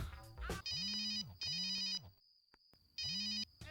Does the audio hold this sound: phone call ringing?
yes